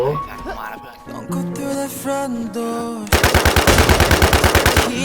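Rapid bursts of gunfire in the Thai-played game Twin Force, loud automatic fire pulsing steadily through the second half after game music and effects, with voices talking over it.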